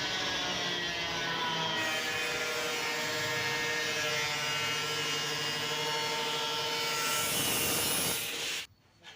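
Power drill boring holes in a metal electrical service panel box for a 200 amp L&T changeover, a loud continuous whining grind at close range that winds down abruptly near the end.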